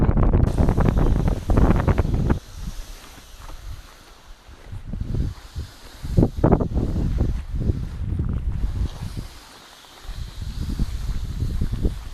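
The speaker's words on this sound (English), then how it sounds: "Very windy." Strong wind buffets the microphone in heavy gusts that rise and fall, with quieter lulls between blasts, on a canoe trip in Thaidene Nëné.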